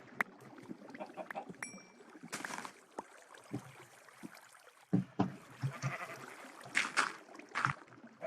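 Sheep bleating in the Minecraft video game, with several short, faint bleats scattered among quiet game sounds and occasional thumps.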